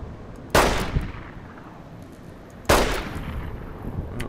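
Two loud gunshots from a weapon in Fallout New Vegas (Dead Money), each a sharp blast with a decaying tail, about two seconds apart.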